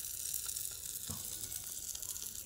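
Fish frying in a pan, a dense, even sizzle with a brief bump or turn near the middle, close and steady, without talk.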